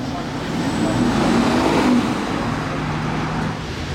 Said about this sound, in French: donc là on a une RS6 assez modifiée, on en a une autre qui arrive là